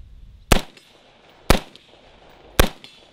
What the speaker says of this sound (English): they are setting fireworks off right over there